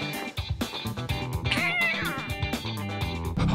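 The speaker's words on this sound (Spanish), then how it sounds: "¡Vamos, gatito!" An animated kitten meows several times, drawn out and plaintive, rising and falling in pitch over a rhythmic musical backing.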